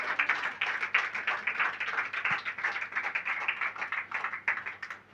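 Clapping from a church congregation during a Telugu pastor's sermon, a steady spread of many hands that stays fairly even throughout, moderately loud and with no talking over it.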